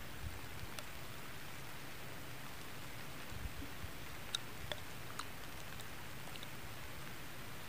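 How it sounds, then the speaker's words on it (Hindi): Steady rain falls in a high mountain village in Gilgit-Baltistan, a soft even hiss with scattered drip and tapping sounds, fairly quiet and with no talking. "लेकिन बारिश बहुत तेज़ हो रही है ना"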